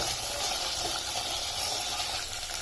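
Drumstick pods stir-frying in a pan for a village-style spiced vegetable dish give off a steady, even sizzling hiss that holds without a break throughout, with no talking.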